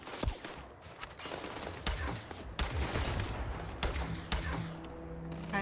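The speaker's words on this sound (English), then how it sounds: "Oh, someone shot me." Gunfire in the space game Starfield, with a rapid, dense run of shots, some sharp cracks standing out over a continuous busy battle din, fairly loud and without talk.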